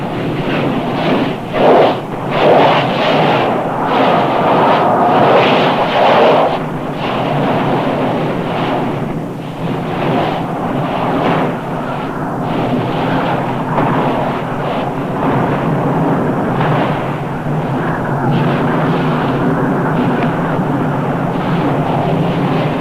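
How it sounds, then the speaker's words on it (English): The molten lava lake of Nyiragongo volcano erupts in a continuous, loud, deep roar and rumble, with a few stronger surges early on and no voices. "Many times each day, without warning, the molten lava rises hundreds of feet and fills the fire pit."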